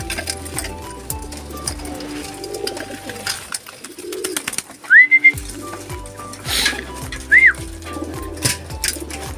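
Racing pigeons coo in soft, repeated low calls close by, joined by a couple of short rising whistles and scattered wingbeat flutters in a quiet loft.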